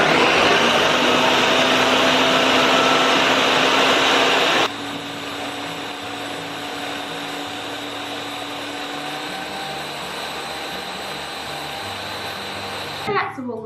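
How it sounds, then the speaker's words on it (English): A blender whirs loudly while blending a toddler smoothie, a steady high motor whine that drops to a lower, quieter pitch partway through, then cuts off with a brief clatter at the end. "blend it up a little bit more before you add all of the fruit"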